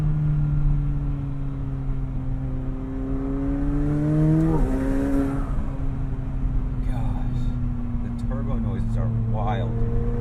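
A 2020 McLaren 720S convertible supercar engine runs close by with a steady humming drone that rises and dips in pitch as it revs, while people talk over it toward the end.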